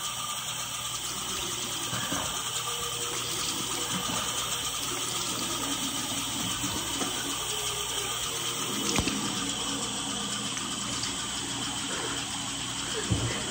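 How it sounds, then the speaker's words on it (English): Cold water runs steadily from a tap, a continuous close rushing stream with no break from start to finish. "Use cold water."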